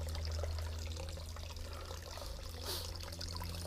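Water pours steadily out of a pipe and seeps back into the ground on a nature trail at a Florida wildlife refuge, a continuous close trickling flow with a low rumble beneath.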